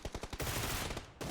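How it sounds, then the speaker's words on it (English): Rapid bursts of automatic gunfire in the battle royale game PUBG during an esports league final, a quick rattling volley followed by a longer sustained burst, loud and close. "Gunshots have been heard."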